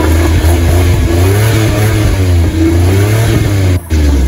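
A Suzuki Multicab 4WD engine revs hard and steadily up close, its loud mid-pitched drone rising and falling through several throttle swells before a brief dip near the end.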